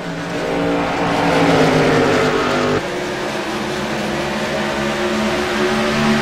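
Race cars battling for position in a race, engines roaring loudly together with a rising whine that cuts off abruptly, then a steady, somewhat softer engine drone as the pack carries on.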